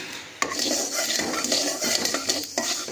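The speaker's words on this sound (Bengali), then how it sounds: "দিয়ে এই মশলাটাকে আমরা একটু ফ্রাই করে নিচ্ছি ভালো করে" Spoon stirring black mustard seeds and cumin as they fry in a pan, with steady scraping and clinks of metal on the pan under a continuous sizzle, close and fairly loud.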